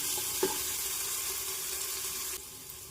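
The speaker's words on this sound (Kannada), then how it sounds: "ಈಗ ಒಂಚೂರು ಎಣ್ಣೆ ಹಾಕ್ಕೊಂಡು ಇದನ್ನು ಒಗ್ಗರಣೆ ಮಾಡ್ಕೊತೀನಿ." Spices tempering in a little hot oil for a village-style country chicken curry give a steady, close sizzle with a brief pop near the start, then drop slightly softer near the end; no voices.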